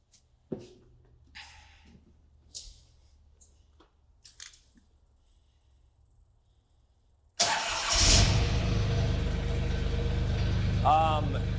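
A Solis H24 24HP 4x4 compact tractor engine idling: scattered quiet knocks and handling sounds, then the diesel abruptly starts and settles into a steady, loud low rumble.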